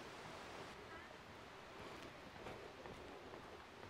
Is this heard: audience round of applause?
no